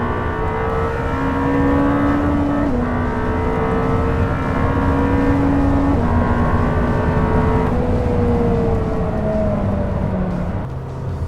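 A Lamborghini Temerario accelerates hard on a track at around 7,000 RPM, its engine note loud and close from inside the car, climbing steadily in pitch through several gear changes, with no voices.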